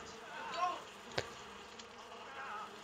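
Buzzing flies in the Far Cry 4 video game, a faint insect drone with a brief sharp click midway, sitting low under game ambience.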